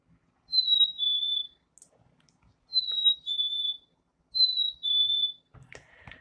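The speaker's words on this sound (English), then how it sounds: "So here is the song of the chickadee." Black-capped chickadee song: three clear, loud whistled two-note phrases, each a higher note sliding into a slightly lower one, evenly spaced with short gaps, followed by a brief burst of faint rustling at the end.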